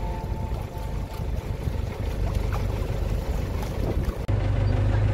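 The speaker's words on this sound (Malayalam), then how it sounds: "ഇതാണ് നമ്മുടെ സ്വന്തം രാജീവ് ജി ബോട്ട്" Steady low rumble of a shikara boat engine running nearby on the backwaters of Alappuzha, Kerala, continuous throughout, with water and wind noise mixed in.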